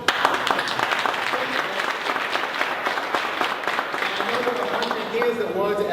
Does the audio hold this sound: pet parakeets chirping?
no